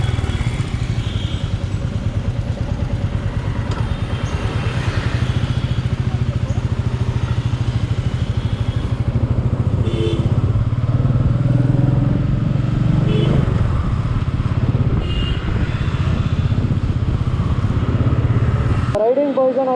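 A Royal Enfield Meteor 350 Supernova motorcycle idles with a steady, deep thumping single-cylinder exhaust note, loud and close throughout, with a person talking over it partway through.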